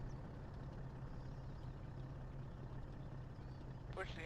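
A burning, damaged military vehicle in Arma 3 idles with a steady low engine drone that holds level the whole time, and a short chirp cuts in near the end.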